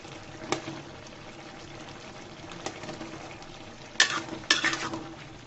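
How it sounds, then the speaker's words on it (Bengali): Bottle gourd and shrimp being stirred in a pan, with quiet simmering under a few sharp spatula scrapes and clinks against the pan near the end. "দিয়ে আবারও নেড়ে ছেড়ে দিচ্ছি"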